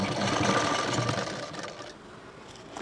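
A sewing machine runs fast and steady while stitching a prince cut blouse, a close, even mechanical whir that eases off slightly toward the end, with no talk over it.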